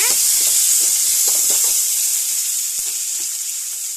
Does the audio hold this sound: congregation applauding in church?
no